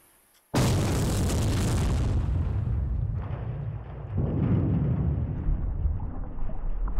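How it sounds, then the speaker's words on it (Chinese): An explosion inside a water tank, part of an art exhibition piece, bursts in suddenly as a loud broadband boom and then roars on as a sustained, rumbling wash with a second surge partway through, with no voices. "为什么会在水缸里面爆炸？"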